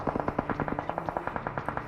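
Rapid automatic gunfire in a shooter video game, a steady rattling burst of roughly fifteen shots in under two seconds, fairly loud and close, with no talk over it.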